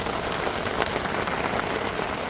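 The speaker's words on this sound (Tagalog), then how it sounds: "Ulan na naman mga kaibigan." Steady rain patters densely on a camping tarp at a tidal pool campsite in Dibut, Aurora, a close, even hiss of drops with no pauses and no voices.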